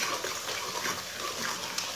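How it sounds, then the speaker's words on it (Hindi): Water poured into spices frying in a pan for an aloo gobhi curry, a steady close hiss and gush of liquid meeting hot oil, continuous throughout. "थोड़ा सा पानी डालेंगे, इसे अच्छी तरह मिक्स कर लेंगे"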